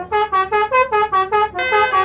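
A bus horn at Sunan Drajat bus terminal in Lamongan plays a loud, close telolet rhythm: a quick run of about seven short melodic blasts, then a longer sustained tone.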